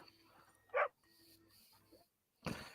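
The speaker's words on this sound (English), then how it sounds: "the dog barking because he's worried you'll do to him what you did to his owner" A dog in the Red Dead Redemption 2 video game gives a couple of short barks and whimpers at moderate distance, quiet overall, with faint game ambience between them.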